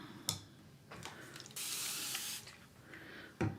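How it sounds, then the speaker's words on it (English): Several short bursts of a spray bottle misting acrylic paints to keep them moist, one longer hiss in the middle, close and fairly quiet with no talking. "I'm spraying to keep my paints moist while I'm working."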